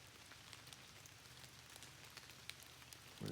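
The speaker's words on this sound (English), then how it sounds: "when it's raining like this." Steady rain falls on an outdoor surface in a wooded setting, a dense, even patter throughout at low level, with no talking.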